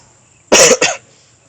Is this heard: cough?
yes